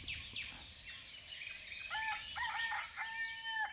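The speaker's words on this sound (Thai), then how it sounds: "อันนั้นไก่ป่านะครับ ไก่ป่าก็มี" Wild junglefowl crow in Nam Nao National Park, with several strident calls overlapping and one clear, drawn-out crow rising in the latter half, moderately close in an outdoor setting.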